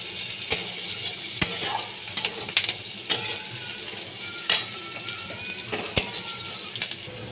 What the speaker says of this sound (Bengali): পেঁয়াজ আমি একটু ভেজে নিচ্ছি